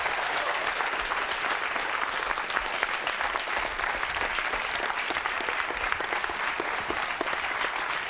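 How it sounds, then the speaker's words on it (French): A studio audience on a French talk show applauds steadily, a thick even wash of many hands clapping continuously without pause. "on peut l'applaudir"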